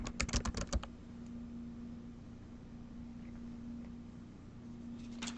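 A burst of rapid keystrokes clatters on a computer keyboard, then it goes quiet over a steady low hum before a few more keys tap at the end.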